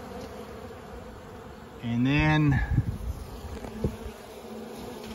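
Honeybees pouring out of a trap-out box entrance after smoking, a dense buzzing hum under a voice, which briefly rises and then settles into a steady drone.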